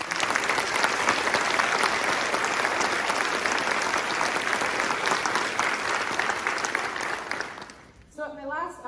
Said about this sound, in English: I just would like a round of applause for that.